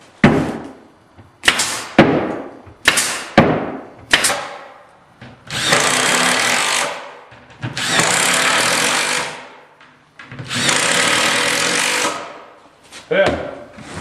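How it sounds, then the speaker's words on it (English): Several sharp, loud staple gun shots into the side of a kitchen cabinet, followed by three long bursts of power drilling driving screws, then a few more quick snaps at the end. "Through the side of the cabinet, I'm going to shoot some staples all the way down the side."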